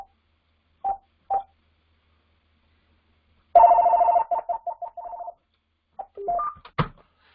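A telephone rings in a quiet room, with two short tones early on and then a longer burst of repeated electronic trills, followed by a few scattered beeps.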